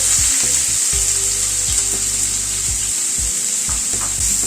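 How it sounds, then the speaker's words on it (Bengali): Three chopped onions fry in hot white oil in a wok, giving a loud, steady sizzle with a few scraping stirs throughout and no voices. "পেঁয়াজটাকে প্রথমে ভেজে নিচ্ছি।"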